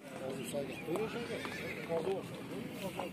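At a horse market, a young horse whinnies in repeated, wavering neighs over faint hoof clip-clops, close and fairly loud, with people talking through it.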